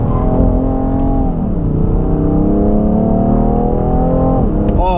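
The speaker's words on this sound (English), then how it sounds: "when those turbos kick in on that 3-liter twin turbo inline 6, this thing pulls hard" A 2017 BMW M3 with a 3-liter twin-turbo inline six accelerates hard, its engine note loud and sustained with rising and falling harmonics as it pulls, plus a brief shift dip, heard from close inside the car.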